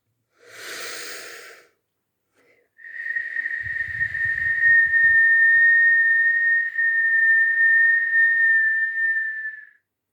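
A short breathy exhale, then a long steady whistle through pursed lips holding one pitch for about seven seconds, close and fairly loud, with soft low rumbles beneath, during a breathing exercise.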